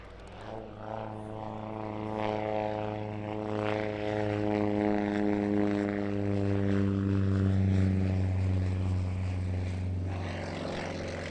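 A Sukhoi Su-26/Su-29/Su-31 family aerobatic propeller plane performs at an airshow in Portugal, its radial engine droning with a strong steady buzz that swells and shifts in pitch as it passes, loud and continuous without speech.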